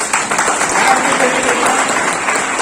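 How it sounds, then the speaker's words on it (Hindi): Loud, continuous applause fills a college seminar hall during a talk on the role of police, with a dense wash of clapping from a large crowd. "जोरदार तालियां मैडम के लिए।"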